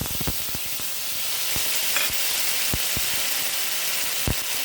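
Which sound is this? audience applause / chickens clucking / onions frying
onions frying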